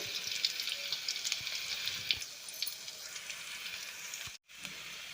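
Garlic, with cumin and mustard seeds, sizzles quietly in hot oil, a steady soft crackle with small pops, cutting out abruptly near the end.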